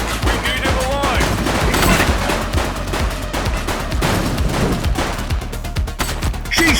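A suspect shooting in the police game The Precinct, with rapid, continuous gunfire cracking close and loud across the whole stretch over a low rumbling bed, no talk.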